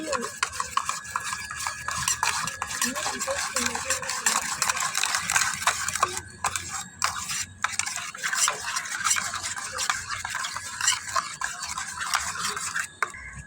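A thick milk mixture for palkova is stirred and scraped in a pan, giving a steady rubbing, scraping texture that runs with a brief pause midway.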